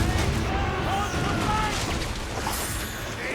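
Ship cannons booming in the Assassin's Creed Rogue video game during a naval battle, heavy rumbling blasts that roll on loudly under shouting voices.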